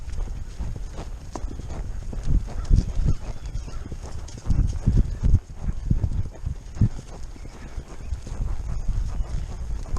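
Horses named Sonny and Faith trotting, their hooves clip-clopping in an uneven rhythm of close, fairly loud thuds over a low rumbling background.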